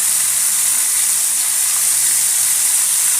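Small tengra and puti fish fry in hot oil, giving off a loud, steady sizzling hiss with no voices over it.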